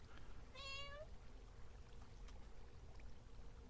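A single short meow rises out of steady low background noise, quiet and somewhat distant, from cats kept in a farm in a video game.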